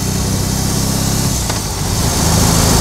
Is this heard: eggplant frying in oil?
no